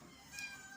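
A cat gives a single short, faint meow against a quiet room background.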